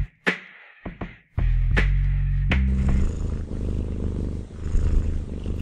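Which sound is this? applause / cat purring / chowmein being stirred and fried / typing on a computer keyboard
cat purring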